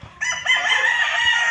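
A rooster crows once in a long, loud, drawn-out call close by, rising sharply after a brief cluck.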